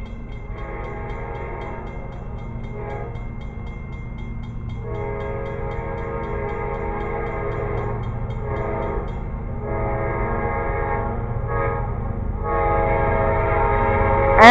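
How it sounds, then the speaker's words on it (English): An approaching train sounds its horn in a series of long blasts separated by short gaps, while a low rumble and wheel clatter build steadily louder as it nears. "here comes another train"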